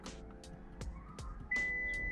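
A steady electronic beep tone sounds inside a car, a single sustained note starting partway through over low engine hum and a few brief clicks.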